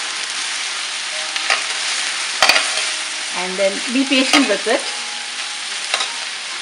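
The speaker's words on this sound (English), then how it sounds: "You need to keep frying this," Steady frying sizzle from a pan of okra and potatoes, with a stirring scrape partway through and a few sharp clinks of a utensil against the pan, while a voice briefly speaks.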